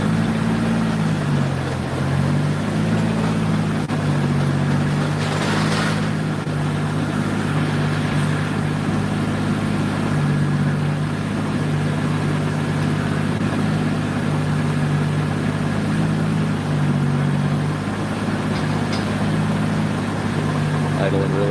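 A tuned car engine idles steadily for about twenty seconds, a low even hum with slight shifts in pitch, while people talk nearby.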